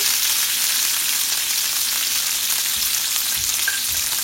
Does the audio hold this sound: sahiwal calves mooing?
no